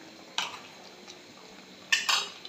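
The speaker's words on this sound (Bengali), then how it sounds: "চিকেনটা আমি নাড়াচাড়া দিয়ে দিব" A utensil stirs chicken in a pot while it cooks, a few faint scraping clinks against the metal, spaced apart with quiet stretches between.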